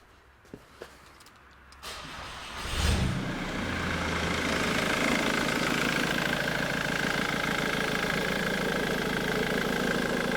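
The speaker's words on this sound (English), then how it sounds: "I'm just going to crank the engine and see what we get." A car engine in a home garage cranks briefly on its starter motor after a few faint clicks, catches, and settles into a steady, continuous idle that runs loud and close for the rest of the clip.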